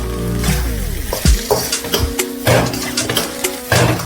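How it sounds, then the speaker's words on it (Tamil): Beef fried rice stir-fried in a pan over a high flame, with steady sizzling and repeated scraping and clanking of the spatula against the pan, loud and close, no talking. "இப்போ வந்து இது அப்படியே லைட்டாக பெரட்டி நல்லா மிக்ஸ் பண்ணிடணும். ஃப்ளேம் வந்து ஹை ஃப்ளேமில் வச்சுக்கோங்க"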